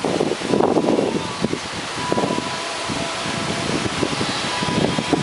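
Loud, gusty typhoon wind from Typhoon Agaton in the Philippines roars and buffets the microphone in irregular surges, with rustling debris and no speech.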